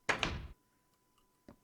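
Door placed in Minecraft Infdev, a quick pair of close wooden knocks followed by a faint soft tap about a second later.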